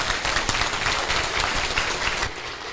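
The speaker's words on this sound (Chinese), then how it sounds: "各位同心，我们再次以热烈的掌声，谢谢校长、立委带来的演讲" Dense, warm applause from a room full of people at a government preparatory meeting honours a school principal and a legislator after a lecture on the national budget. The clapping is steady and close throughout, with no talking over it.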